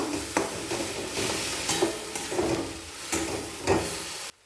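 Utensil stirring cabbage, egg and mayonnaise in a pan, a steady scraping and soft sizzle with repeated strokes throughout, close and moderately loud, no talking.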